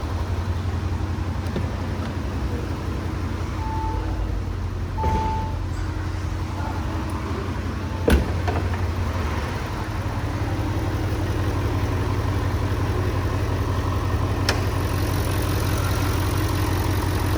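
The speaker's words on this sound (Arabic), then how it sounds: "ها هو الفي 8 8 سيلندر توربو 4 لتر" Audi SQ7 4.0-litre twin-turbo V8 TDI diesel idling steadily, a low constant engine rumble close by with no talk over it.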